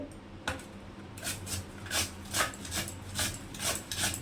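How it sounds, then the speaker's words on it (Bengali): Potatoes are rubbed against a grater to make chips. Close, rasping strokes repeat in a regular back-and-forth rhythm, with no talking over them. "আলুটা আগে ঘষে নিচ্ছে এভাবে করে"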